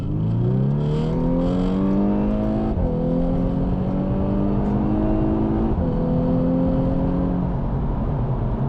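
A 2017 VW Scirocco R with a DSG gearbox accelerates hard, its engine note climbing steadily in three clear pulls, each broken by a quick gear change, loud and close with no talking.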